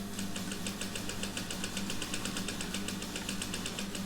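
A sewing machine runs steadily, stitching around the edge of a shower cap at a stitch length of about 2.5, with a fast even rhythm of needle pulses and a low motor hum, close and uninterrupted.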